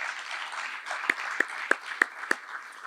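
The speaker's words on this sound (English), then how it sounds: "a big round of applause from our student athletes to the parents" Student athletes applaud parents at a senior athletic awards night, a soft crowd clapping wash with a few sharper individual claps standing out, moderately distant and steady.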